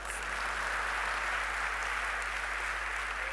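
Steady applause from a crowd, many hands clapping together at a constant level throughout, with no talking.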